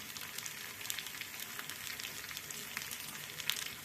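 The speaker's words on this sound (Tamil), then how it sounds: "அடுத்து சிம்மில் போட்டு அப்படியே மூடிடலாம் எண்ணெயிலே வேக மாங்காய் பாருங்கள் பாதி வெந்துட்டு மாங்காய்" Mango pieces frying in oil in a covered pan on low heat, a soft, steady sizzle with faint crackles and pops throughout.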